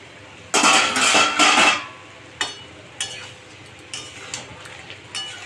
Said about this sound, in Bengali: তরকারিটা এবার আমি একটু ঢাকনাটা খুলে দেখাই কিরকম কতটা হয়েছে।